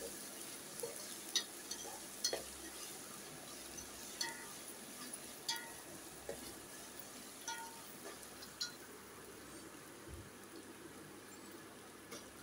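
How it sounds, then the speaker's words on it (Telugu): Ginger garlic paste being stirred in a pan while making egg and carrot dum biryani, a soft continuous sizzle with scattered scraping taps from the spoon, fairly faint and steady with no talking. "ఇప్పుడు 1 నిమిషం ఇలా బాగా కలిపేసుకోవాలి"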